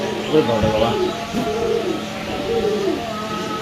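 Pigeons coo softly and repeatedly against a steady background murmur, with voices talking nearby.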